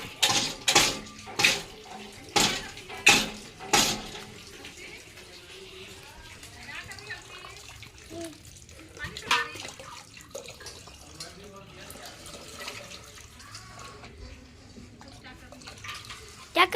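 A child splashes and stirs water indoors, giving a few sharp splashes early on and then softer sloshing and dripping, with adults talking throughout.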